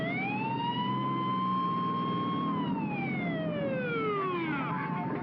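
Ambulance siren used as a sound effect in a podcast drama, a loud wailing tone that holds steady, then slides downward as the vehicle passes, heard alone without talk.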